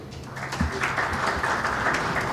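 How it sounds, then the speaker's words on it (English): Conference attendees at a legal education and training event in Kenya applaud the panelists. The clapping sounds short and moderately dense against a roomy background, with scattered louder claps. "Ladies and gentlemen, let us give them a warm round of applause."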